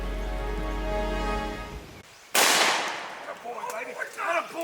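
A single sharp gunshot fired at a turkey during a hunt, loud and close, cutting off a low hum, followed by rustling and excited voices.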